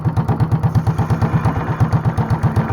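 A Honda clone small engine fitted with a heavy 10 pound flywheel runs slowly at around 500 RPM, producing a steady, evenly spaced chugging pulse about six beats per second, close and fairly loud, with no voices.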